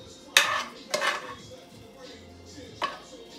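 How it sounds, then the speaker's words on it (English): Cooked vegetables are spooned back into a bowl, three sharp utensil knocks and scrapes against the dish over a quiet kitchen background. "So I'm just going to put it back in this bowl here for a second."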